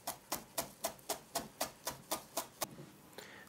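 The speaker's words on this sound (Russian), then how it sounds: "И очень меленько режу." A knife finely chops dill and mint leaves on a board in about ten quick, evenly spaced strokes, crisp and close, before the cutting stops.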